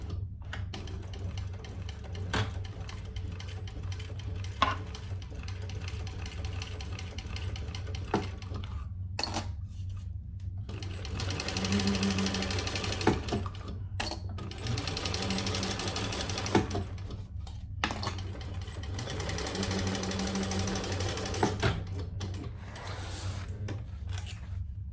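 A sewing machine stitching seams on a large crossbody sling bag, running in several bursts of steady whirring separated by short pauses, with occasional clicks and handling noises, fairly quiet and close, no talk.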